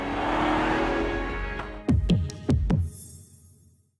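An Audi car with quattro all-wheel drive gives a broad engine roar that fades, followed by a quick series of four sharp thumping bursts. No one speaks.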